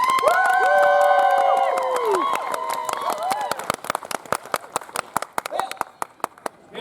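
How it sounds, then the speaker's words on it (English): An audience at a Renaissance fair's Queen's Court show cheers and shouts at first, then settles into a sparse scatter of individual claps that thins out toward the end. "that applause was weak!"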